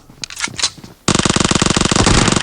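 Rapid Uzi fire in the mobile game PUBG Mobile bursts out after about a second of quieter game noise, then keeps going as a loud, fast, continuous rattle to the end.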